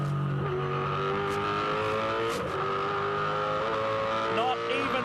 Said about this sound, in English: On the rev limiter.